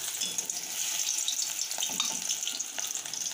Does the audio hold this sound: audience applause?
no